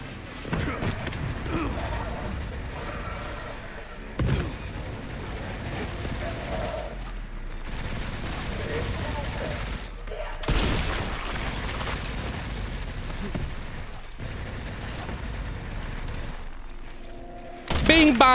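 Enemy gunfire aimed at the player in Resident Evil Requiem, with sharp shots and booming bursts over a dense, busy game soundscape of mechanical noise and effects, steady and loud throughout.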